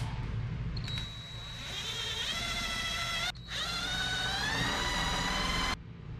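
A power drill whines as countersunk screw holes are drilled, speed rising in two steady runs with a short break between them, close and fairly quiet.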